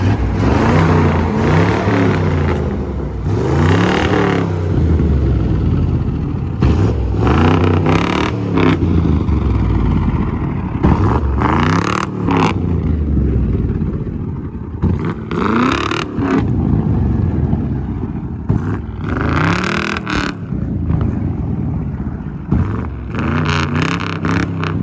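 Loud and close, the engine of a warmed-up two-door Mercedes revs repeatedly, each rise of throttle falling back to a rough idle. No voices are heard over it.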